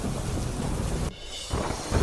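Heavy rain in a Kutch thunderstorm pours as a dense, loud, steady wash with a low rumble of thunder, dipping briefly before the downpour surges back; no voices.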